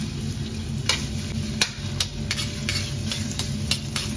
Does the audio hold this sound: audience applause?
no